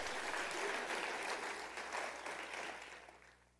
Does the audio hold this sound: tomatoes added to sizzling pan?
no